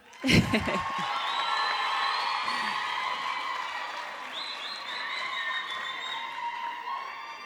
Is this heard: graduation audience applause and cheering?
yes